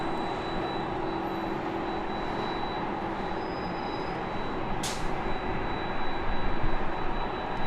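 A Delta Airlines Airbus A320 arriving at LAX from Portland, a steady broadband jet roar filling the whole stretch, growing slightly louder toward the end, with no voices.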